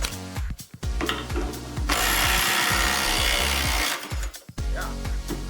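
An impact wrench tightens a bolt: a close, loud burst of rapid hammering with a dense sustained rattle in the middle, framed by shorter choppy ratcheting bursts.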